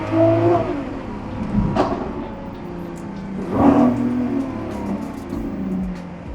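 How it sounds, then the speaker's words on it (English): A 2022 Lamborghini SVJ with its V12 engine on the road, swelling in two revving surges between steadier cruising hum, close and fairly loud with no talking. "nothing like a Lamborghini V12."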